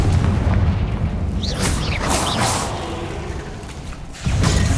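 A Confringo spell goes off in the video game Hogwarts Legacy, with booming explosive blasts and whooshing magical effects over a rumbling game soundscape, followed by a heavier thud near the end.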